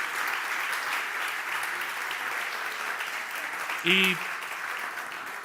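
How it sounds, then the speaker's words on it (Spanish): Sustained audience applause at a conference talk, an even wash of many hands clapping at moderate distance, with a short spoken word cutting in near the end. "un enorme aplauso para todas estas increíbles mujeres por un trabajo espectacular"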